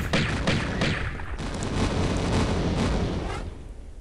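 Continuous rumbling explosions in a Tomb Raider game, dense and loud, with repeated bursts blending into a roaring wash of debris and noise.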